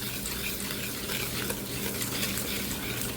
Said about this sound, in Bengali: এখন এই টক দইয়ের সাথে ভালো করে একটু মিশিয়ে নেব চিনিটা